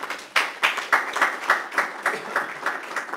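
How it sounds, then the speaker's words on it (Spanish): Seminar audience at a university geoheritage event applauds in a rhythmic, evenly spaced clap that pulses steadily for a few seconds. "Un aplauso para César Aldama"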